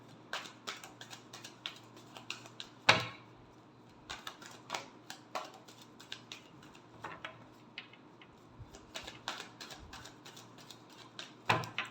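Tarot cards being shuffled by hand in a quiet room, giving repeated soft riffling and slapping bursts with one sharper snap near the start, close and fairly faint, with no talking.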